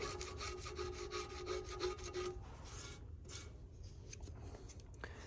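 A small hand scraper works over the metal final drive housing of a Gleaner R72 combine, making a quick run of rhythmic rasping strokes close up, then slower, scattered scrapes, with no talking.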